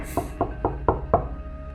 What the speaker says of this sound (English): I waited a few moments, then knocked again.